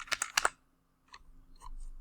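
A quick burst of close keystrokes on a computer keyboard, followed by a pause and a few scattered softer taps.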